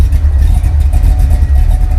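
A 1989 Mustang GT with a 331 stroker V8 and 2.5-inch exhaust idling, a loud, lumpy, uneven rumble with a steady pulsing beat, close up and alone without talk.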